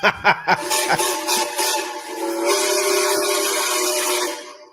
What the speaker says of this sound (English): Why would you keep going when you can hear and see the train?